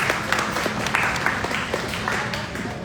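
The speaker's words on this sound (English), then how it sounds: "give him a big clap" Audience at a college get-together party applauding for a team manager, a steady crackle of many hands clapping through the whole stretch, with a few voices mixed in underneath.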